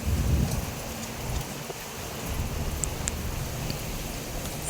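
Steady rain patters down on netting around a pigeon coop in a dense, even hiss, with a few sharper drops landing close by and no voices.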